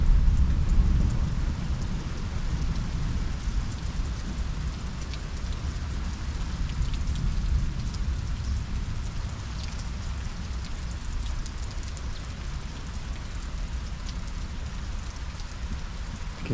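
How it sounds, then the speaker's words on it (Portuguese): Steady rain pours down around a cabin, a dense, continuous hiss of drops striking surfaces at an even level for the whole stretch, with a low rumble underneath and no voices. "Agora tá chovendo."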